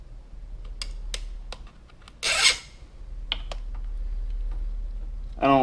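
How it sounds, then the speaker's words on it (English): Zip ties are pulled through the armrest slots of a Jazzy Select power wheelchair during setup, giving short close raspy ratcheting bursts with one longer rough pull and quiet gaps between. "Okay, what I'm going to do is I'm going to go ahead and put the zip ties in."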